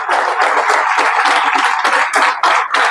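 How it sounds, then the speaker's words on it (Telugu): An audience at a direct-selling meeting claps steadily and densely, the applause holding loud and close throughout with small swells and dips. "మిమ్మల్ని ఎవరైతే పిలిచారో వాళ్ళ కోసం చప్పట్లు కొట్టండి మీరు"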